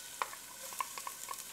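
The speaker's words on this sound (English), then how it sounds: "listen to that sizzle" Soft, steady sizzle of chopped onion frying in olive oil in a pan, with a few faint clicks and stirring scrapes over the hiss.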